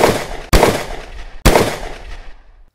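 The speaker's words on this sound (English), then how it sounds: "Nice shooting, kid." Gunfire in a western film showdown: two sharp, loud shots about a second apart, each with a booming tail that rings out and fades, with no talking.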